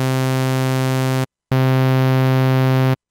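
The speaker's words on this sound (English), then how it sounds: "And if you compare to the regular sawtooth" Plain sawtooth synth oscillator holding a steady buzzy tone, sounded twice in sustained bursts of about a second and a half separated by a short silence, loud and bright.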